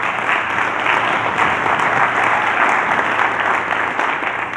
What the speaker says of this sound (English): I'd love to have a big round of applause for the panelists.